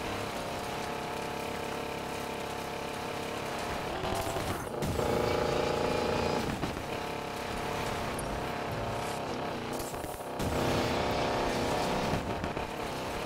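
A 1,200-horsepower Pontiac Firebird superbuild in the Need for Speed Payback video game roars continuously, its engine note rising and falling through repeated revs and gear changes.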